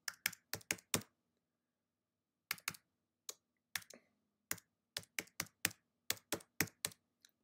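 Keys clacking on a computer keyboard as a recovery email address is typed in, crisp close clicks in short bursts with a pause mid-way, no talking over them.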